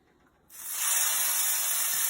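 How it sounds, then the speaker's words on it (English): Pork tenderloin hits a hot pan and bursts into a loud, sustained sizzle that starts abruptly after a brief quiet moment and holds steady, close and without talk. "I'm going to sear it probably a couple of seconds each side so that way that's nice and crispy on the outside"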